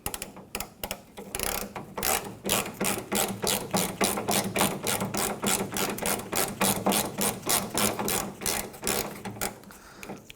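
A ratchet with a T45 bit tightens a tailgate bolt on a 1997-2003 Ford F-150, clicking in a fast, even series of loud strokes close by.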